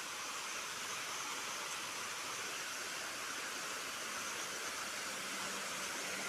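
Steady broadband roar of falling water at a waterfall, continuous and fairly close, with no voices over it.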